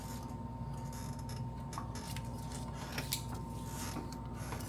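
A ratchet works at a bolt on a bracket of a 2014 Honda Odyssey during a water pump job, giving faint mechanical clicks and creaks over a steady low hum, with no talking.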